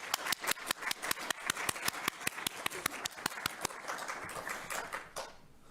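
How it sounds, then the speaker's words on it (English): A round of applause for the panelists at a public health and consumer finance panel event, sharp distinct claps in a quick steady rhythm, close and fairly sparse, thinning out and fading near the end. "So please, a round of applause for our panelists."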